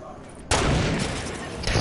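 A sniper gunshot in Fortnite cracks loudly and suddenly, followed by a sustained noisy roar and a second burst near the end, with voices talking around it.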